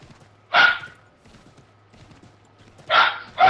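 Dog barking in the video game Assassin's Creed III: three loud, close barks, one near the start and two in quick succession near the end, over a quiet low hum with faint background activity.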